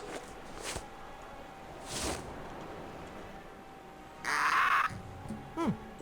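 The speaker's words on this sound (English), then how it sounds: "Kinda sounds like a parrot." Parrot squawking in the video game Escape From Monkey Island, a raspy harsh squawk midway plus fainter calls, moderately loud over quiet game ambience.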